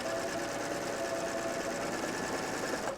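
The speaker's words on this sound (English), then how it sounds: "I'm just going to just barely skim and sew this right sides together." A serger stitching an apron seam runs steadily at high speed for about three seconds, a close, continuous mechanical whir and rapid needle chatter with no talk.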